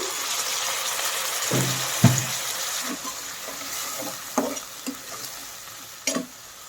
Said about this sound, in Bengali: পেঁয়াজ আর আলুটা হালকাভাবে ভাজা হয়ে গেছে। এখন আমি এর মধ্যে দিয়ে দিচ্ছি সামান্য পরিমাণে পানি।